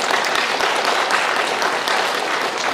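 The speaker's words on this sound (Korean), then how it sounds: "여러분, 저 거위한테 박수 한번 쳐주시겠어요?" A concert hall audience claps warmly for a goose brought onstage during an orchestra's family performance of Ravel's Mother Goose. Loud, dense applause runs continuously from start to finish.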